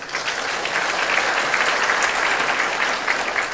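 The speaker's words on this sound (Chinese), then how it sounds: "我们给他掌声" Sustained audience applause at a civil servants' outstanding contribution awards ceremony, a dense, even clapping from a large crowd filling the hall without a break.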